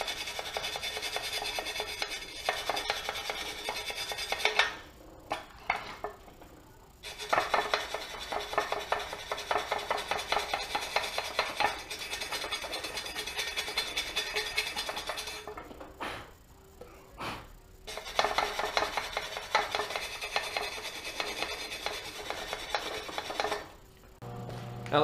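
A stainless steel wire brush scrubs an aluminum skid plate from a Z400 during a repair, giving a harsh, continuous bristly scraping in long back-and-forth bursts separated by brief pauses, close and loud.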